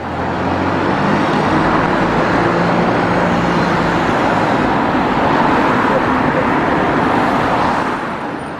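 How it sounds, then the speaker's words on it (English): An E200 London bus pulls away and carries on along the street, a loud continuous engine and road roar filling the scene from start to finish. "New driver aboard, the E200 continues its journey"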